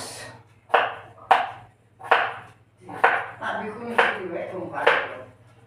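A knife chops potatoes on a cutting board in repeated sharp thuds, about seven cuts in uneven rhythm, close and clear over a low background hum.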